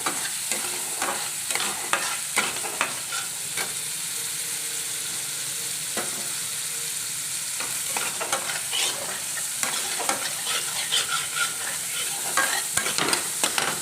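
Spice masala of coriander seeds, coconut, coriander leaves, garlic and cumin roasting in a pan, with a steady dry frying hiss and frequent scraping stirs close by, no voices.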